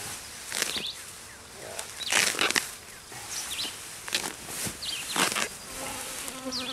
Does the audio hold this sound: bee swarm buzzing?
yes